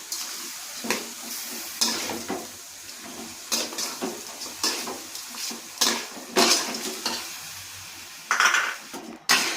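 Food stirred in a pan with intermittent metallic scrapes and clinks of a spoon against the pot over a faint frying hiss, the strokes coming in irregular bursts, close and moderately loud.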